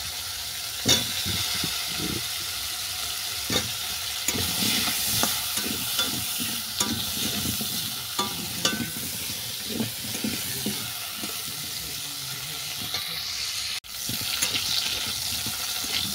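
Cauliflower and potatoes fry in oil with a steady sizzle broken by frequent stirring scrapes and clatters, continuing throughout with a brief dropout near the end and no talking.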